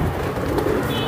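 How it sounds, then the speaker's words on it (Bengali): Giribaz high-flyer pigeons give a short, soft cooing close by, a single low burbling call lasting about a second. "এগুলো ভাই খুব রেয়ার কবুতর। অনেক সুন্দর।"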